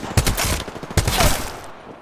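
Loud, close gunfire from a weapon in the battle royale game Apex Legends, two sharp shots each followed by a rattling burst, the second shot about a second after the first, with no talking.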